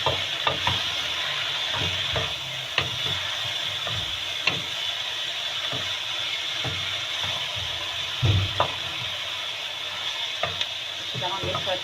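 Fenugreek and dill leaves are stirred and fried in a pan for a potato and pea curry, producing a continuous sizzle with spatula scrapes and knocks at irregular intervals.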